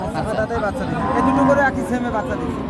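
Cattle lowing at a busy livestock market where dairy cows are being sold, a few moos rising over steady crowd chatter and nearby talk.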